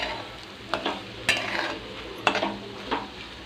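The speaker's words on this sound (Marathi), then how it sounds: "आम्ही आता अशी परतून घेतली भुर्जी" Egg bhurji is stirred and sautéed in oil in a pan, a soft sizzle under several distinct scraping strokes of a spoon against the metal.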